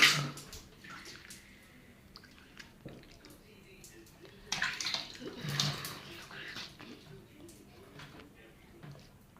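Running water splashes as a face mask is rinsed off the face, soft intermittent splashing and trickling with a few louder bursts, close and fairly quiet.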